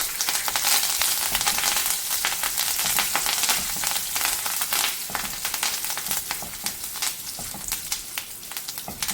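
Half a handful of curry leaves sizzling in hot coconut oil for a Mangalorean fish curry: a steady, close, crackling spatter that runs throughout, easing slightly toward the end, with no voices.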